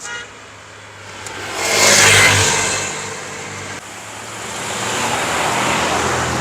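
A vehicle engine revving on a road, climbing to a loud roaring peak and then easing back into a steady drone of passing traffic.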